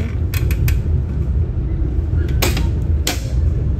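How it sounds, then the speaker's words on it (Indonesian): An adjustable footrest on a panoramic-class seat aboard the KA Mutiara train creaks several times as it is raised and lowered, short squeaky bursts over a steady loud rumble of the moving train. "Di bawahnya ada footrest yang dapat diatur ketinggiannya naik maupun turun."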